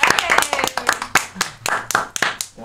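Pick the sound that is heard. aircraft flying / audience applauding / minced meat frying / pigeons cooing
audience applauding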